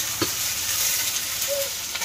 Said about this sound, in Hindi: हल्का तेज भून कर लेते हैं